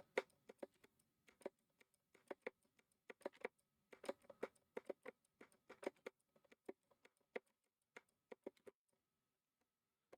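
Clicky keyboard typing in quick irregular bursts with short pauses, close and crisp but quiet, with no voices over it.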